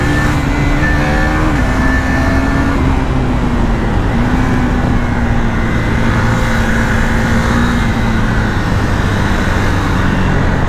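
Riding a KTM Duke 390 BS6 motorcycle fitted with a quick shifter and auto blipper: a steady, smooth engine drone with small pitch steps between gears, loud and continuous over road noise.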